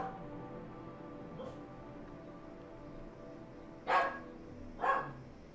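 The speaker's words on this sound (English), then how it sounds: "Sorry, that's my dog barking out there." A dog named Junebug barks outside, two short distant barks about a second apart that stand above a quiet, faintly humming room.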